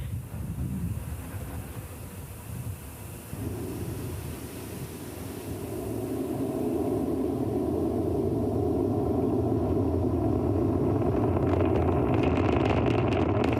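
A Falcon 9 rocket's first stage roars during a launch from Complex 39A at Kennedy Space Center, a distant, continuous low rumble that swells and grows steadier and denser over time, with crackling texture near the end.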